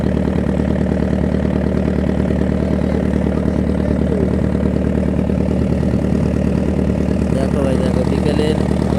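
Motor boats racing on a river give a loud, constant engine drone close by, with a steady mid-pitched pulsing throb that carries through the whole stretch.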